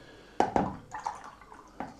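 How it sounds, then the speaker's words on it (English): Water dripped and dabbed onto watercolour paper for a painted sky, giving a few close, soft wet plops and a faint squish in a quiet room. "I want to just randomly put water on here."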